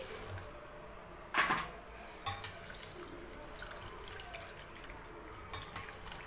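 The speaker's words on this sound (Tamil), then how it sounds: "கொஞ்சமா தண்ணி ஊத்தி" Water is poured into a bowl of flattened rice (aval) to wash it: a short splashing pour followed by a few faint drips and light sloshes, close and quiet, with no talking.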